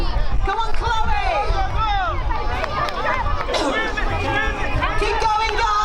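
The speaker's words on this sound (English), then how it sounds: "Cheer for your team." Children at a Nottingham project outdoor team game cheering and shouting for their teams, lively overlapping young voices and squeals forming a busy, close hubbub throughout.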